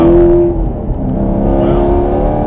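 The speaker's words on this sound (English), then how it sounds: "the old downshift, the old rev match" A supercharged Chevrolet Camaro SS, a Hennessey HPE750, holding a loud, steady engine note close by through a downshift with rev matching, droning without a break for the whole stretch.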